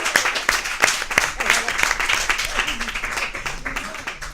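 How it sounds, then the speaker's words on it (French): An audience at a live evening show applauds with steady, moderately loud clapping that carries through the whole moment and fades slightly toward the end. Voices also sound over the clapping. "on peut applaudir"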